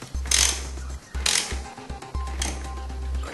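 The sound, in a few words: tightening motorcycle chain adjuster with spanner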